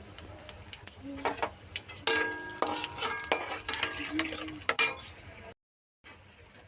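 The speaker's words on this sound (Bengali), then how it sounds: "ফোড়নে দিয়ে দেব গোটা জিরে, একটা তেজপাতা আর একটা শুকনো লঙ্কা।" Whole cumin, a bay leaf and a dry chilli dropped into hot oil, giving a crackling sizzle with clinks and scrapes of a spoon against the pan, close and uneven, then a brief cut to silence near the end.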